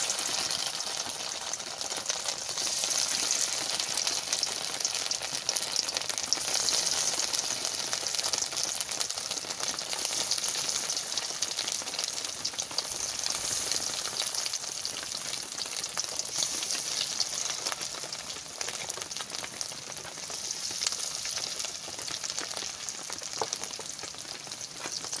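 Fish egg chops fry in hot white oil, giving a steady, close bubbling sizzle that carries on evenly throughout without talk.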